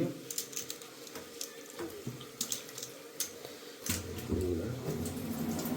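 Water is poured over goat meat in a sink or basin to wash it, with splashing that grows into a fuller, steady stream toward the end. Faint voices come through underneath.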